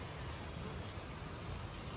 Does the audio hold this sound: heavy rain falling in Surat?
yes